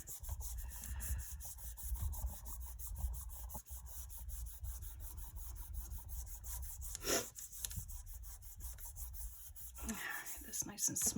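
Hands rub and smooth a piece of polymer clay for a trinket box, giving a steady, close, soft scraping texture throughout with a few brief handling knocks and no talk.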